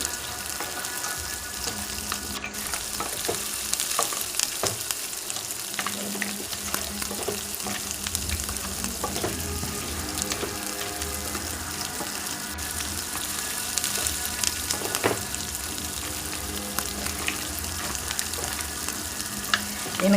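Crabs fry in a pan with a dense, continuous sizzle and bubbling hiss, close and steady, with occasional clinks of a ladle stirring through it.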